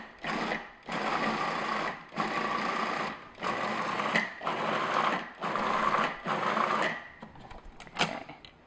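Food processor blending a thick cream cheese brownie mixture, running in repeated pulses of about a second each, loud and close, with short pauses between bursts.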